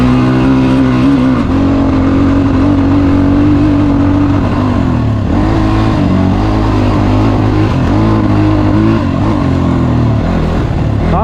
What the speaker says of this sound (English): if you rev it, you really have to rev it